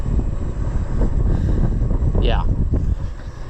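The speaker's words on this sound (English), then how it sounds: "I know it's windy again" Steady low rumbling wind buffeting the microphone throughout, with a brief spoken word and a short whistling sweep in the middle.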